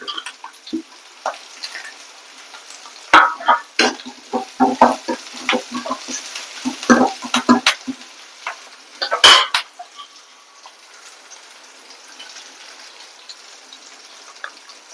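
Onions, green chillies and curry leaves fry in a pan for a banana flower curry, with a soft steady sizzle under clinking, scraping stirring strokes from a utensil against the pan, close and in bursts, then quieter sizzling.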